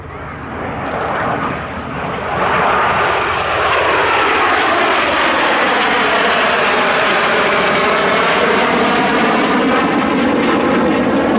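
A de Havilland Vampire jet roars loudly overhead, its engine noise swelling within the first seconds and then holding a strong, sweeping whine with a shifting tone as it passes close by.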